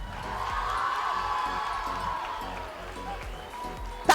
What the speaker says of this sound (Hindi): तालियां बजाओ खूब जोर शोर से